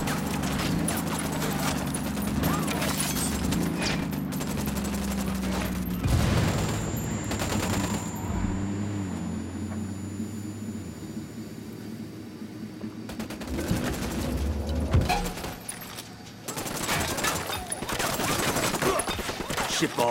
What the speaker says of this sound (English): Estamos bajo el fuego de armas enemigas y no sabemos cuántos son.